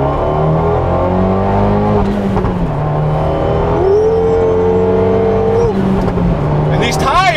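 A tuned Fiat 124 Spider engine pulls hard in fourth gear on an open road, its steady drone rising in pitch as revs climb, loud and close from inside the cabin with someone talking over it.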